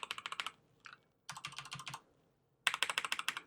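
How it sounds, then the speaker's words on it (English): Three quick bursts of loud, crisp keystrokes on an Alienware AW568 mechanical keyboard with rubber O-rings removed clatter close up, each a rapid run of sharp clicks separated by short silent pauses, with no voices. "the keys are a little bit louder than on my Cherry keyboard"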